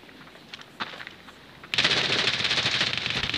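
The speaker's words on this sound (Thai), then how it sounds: "ยิงใส่กำแพง" Automatic gunfire in the mobile shooter game Standoff 2, aimed at a wall: a few faint clicks and taps, then a loud, dense, continuous burst of rapid shots that lasts to the end.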